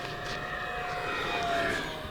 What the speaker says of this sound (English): That is an awesome airplane.